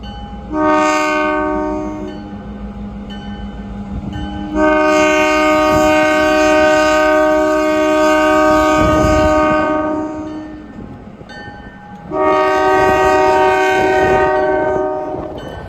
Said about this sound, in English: it seems like the train is coming right through your tent